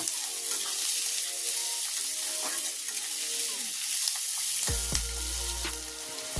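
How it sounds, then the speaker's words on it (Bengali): Cut potatoes and onion frying together in a pan, a steady bright sizzle with stirring scrapes, heard close, and a brief low thud near the end. "আমি আলুটা আলাদাভাবে ভাজিনি, পেঁয়াজের সঙ্গে একসাথে ভেজে নেব"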